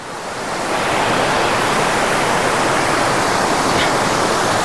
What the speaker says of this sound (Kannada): ನನ್ನ ವಾಯ್ಸ್ ನಿಮಗೆ ಕೇಳಿಸ್ತಾ ಇಲ್ಲದೆ ಇರಬಹುದು, ನೀರಿನ ರಭಸ ಅಷ್ಟಿದೆ